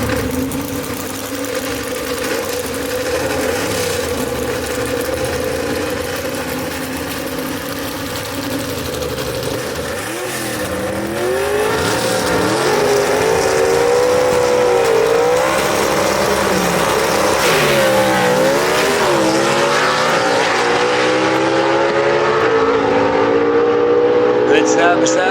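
Gasser drag race cars roar side by side down the strip at Gulfport Dragway, a steady, loud engine drone that rises and wavers in pitch as they pass, with an announcer talking over it.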